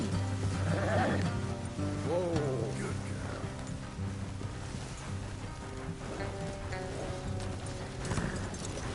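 Steady clip-clop of hooves from several horses with an occasional snort or whinny, set over a continuous musical score and ambient game sound.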